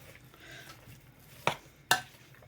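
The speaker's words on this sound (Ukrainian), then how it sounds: "Це все ми перемішуємо" Chebureki filling is stirred in a bowl with faint soft scraping, then two sharp clinks of utensil against the bowl stand out near the end, close and brief.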